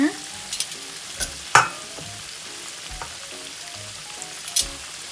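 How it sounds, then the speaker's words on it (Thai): Pork pieces deep-frying for a second time in oil over medium heat, a soft steady sizzle with sharp pops and clanks of a utensil against the pan scattered throughout. "ทอดสองรอบค่ะ ปรับมาที่ไฟกลางนะ"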